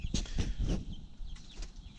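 Rhode Island Red and rainbow chickens clucking inside a brand new coop, several short soft calls in an irregular rhythm over low background noise, fairly close.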